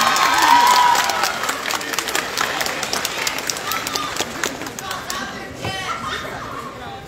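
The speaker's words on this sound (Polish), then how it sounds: "Także wielkie brawa jeszcze raz" An audience at a cosplay contest during a fantasy convention applauds and cheers, with dense clapping and crowd chatter that slowly fades over several seconds.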